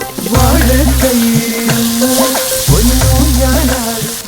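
Cooked pumpkin and beans frying in a pan with browned coconut for an Onam dish, heard as a loud, close sizzle with scraping stirs, and a strong low tonal hum beneath it comes and goes in two long stretches.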